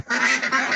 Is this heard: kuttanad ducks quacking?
yes